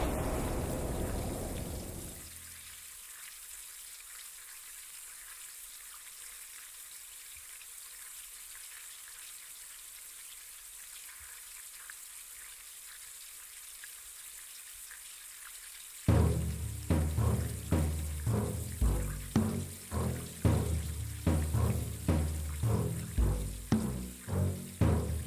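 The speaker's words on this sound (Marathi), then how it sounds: "म्हणून तू आणलेलं पाणी झाडांना घालतोय" Water is splashed and poured onto plants in bursts, first a brief rush, then a long quiet stretch, and finally repeated close splashes in an uneven rhythm.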